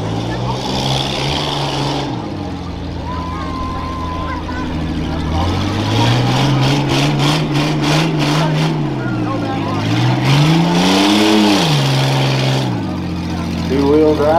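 Two-wheel-drive rough truck racing at a county fair, its engine roaring loudly and rising and falling in pitch as it revs through the course, with an announcer's voice over it.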